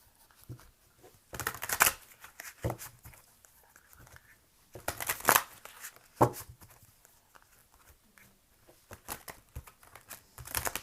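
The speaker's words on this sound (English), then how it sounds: "Let me go ahead and pull some angel cards here." Angel oracle cards being shuffled by hand in a quiet room during a tarot reading: soft papery riffles and flutters in several short bursts with pauses between them, fairly faint and close.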